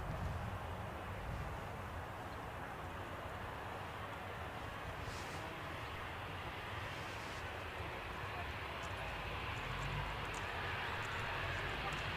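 A TUI Boeing 737 landing at Newcastle airport, its tyres throwing up rubber smoke, gives a steady broadband jet roar that holds at a constant distant level throughout, with no voices over it.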